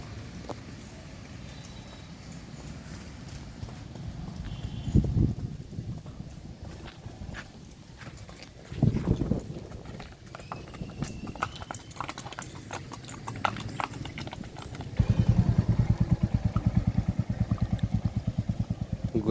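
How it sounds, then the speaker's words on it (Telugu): Horses at a children's entertainment spot clip-clop along with rhythmic hoof beats, growing louder and more regular toward the end over ambient outdoor noise. "గుర్రాలు"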